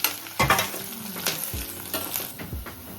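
Curry leaves and two dried chilies hit hot oil with a sharp crackling sizzle, bursts of spattering popping near and loud, settling into a steady fry with stirring.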